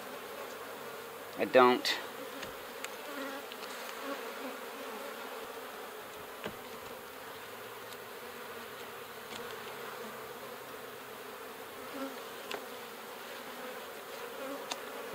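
Honeybees in a horizontal beehive building queen cells hum with a soft, steady buzz, with one louder close pass of a single bee near the start and a brief quiet voice.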